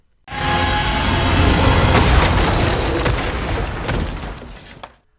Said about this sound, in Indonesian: terbakar dan meledak menjadi api